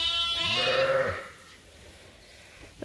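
A sheep bleats once on a farm where ewes and young lambs are kept, a loud, close, wavering cry lasting about a second, followed by quieter barn background.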